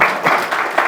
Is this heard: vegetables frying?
no